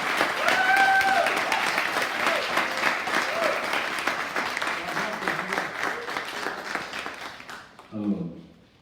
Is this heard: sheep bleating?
no